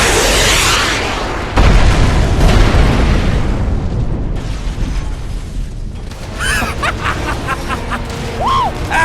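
A lock-on rocket fired in a video game: a loud roaring launch and a heavy, sustained explosive rumble that fills the whole stretch, with crackling debris and some faint, warbling vocal sounds near the end.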